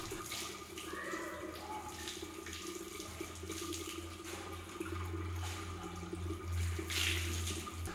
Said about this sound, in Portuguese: e lava também o nariz, introduzindo a água nele com a mão direita e tirando com a mão esquerda